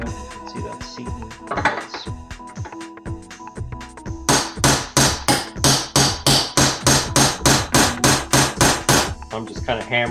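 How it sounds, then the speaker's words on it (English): Scattered clinks and taps of metal, then a rapid run of loud, evenly spaced hammer blows driving a bearing race into a 1983 Toyota Corolla AE71 wheel hub, close up, ending with a few lighter knocks. "I'm just kind of hammering it in this direction."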